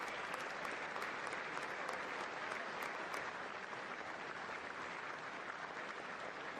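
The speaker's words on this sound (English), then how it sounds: "I don't even know who y'all was clapping for." Applause fills the chamber at a State of the Union address, a dense, continuous clapping from a large crowd, heard at a distance and fairly faint but unbroken throughout.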